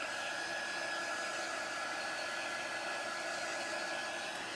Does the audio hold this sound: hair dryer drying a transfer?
yes